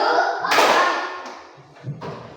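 Students in a classroom clap their hands together as part of a group clapping routine, with a sharp burst of claps near the start and a softer pair of claps toward the end.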